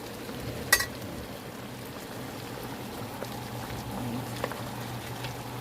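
Smothered pork chops simmer in a pan with a faint, steady bubbling and low sizzle. One brief clink of a utensil rises above the soft background.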